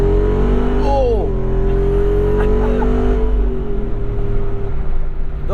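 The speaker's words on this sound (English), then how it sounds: "The whole car lifts up and pulls to the right when you floor it at speed." A 2022 Jeep Wrangler 392 V8 roars close by at full throttle, rising and then holding a strained, steady drone, with a brief shout over it.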